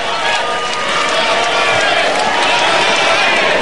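Audience at an Indonesian 2019 presidential and vice-presidential election debate breaks into loud, dense applause that fills the hall steadily throughout, with crowd noise and voices mixed in.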